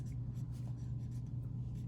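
Soft, steady scratchy rubbing of colored pencil on paper, continuous and close, with a low hum underneath.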